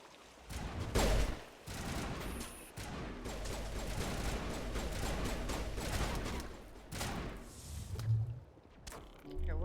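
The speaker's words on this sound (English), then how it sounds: "No, I see stuff shooting at us." Rapid bursts of gunfire from a Mass Effect Legendary Edition firefight, loud and dense across the whole stretch, with heavier impacts mixed in and a few muffled voices underneath.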